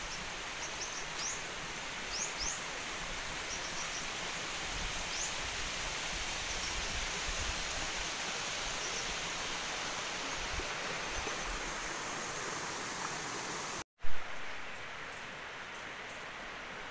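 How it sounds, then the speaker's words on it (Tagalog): Steady broadband rush of the waterfall at Dam Agan Falls in Dimiao, Bohol, heard among rice paddies, continuous and even with faint bird chirps above it and a brief thump near the end. "I can hear the waterfalls."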